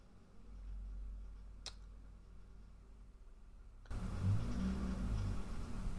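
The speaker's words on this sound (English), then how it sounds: "Or just sitting outside revving your engine?" An aggressive-sounding car revs its engine outside, a low rumble that suddenly swells into a loud, rough roar partway through and holds there.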